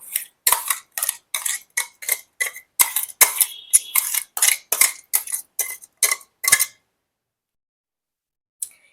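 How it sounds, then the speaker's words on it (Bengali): Fried onion paste is worked into ground coriander and bottle gourd leaf paste, making a quick, regular run of close clinking strokes of a spoon against a bowl that stops suddenly, followed by near silence. "এরপর আমি এটা ধনে পাতা, লাউ শাক যে বেটে রেখেছিলাম তার মধ্যে আমি মিক্সড করব।"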